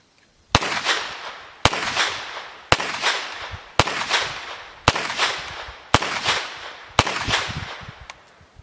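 Seven sharp, loud gunshots from a Stribog 9mm pistol caliber carbine, fired singly at a slow, steady pace about a second apart, each crack followed by a short fading echo outdoors.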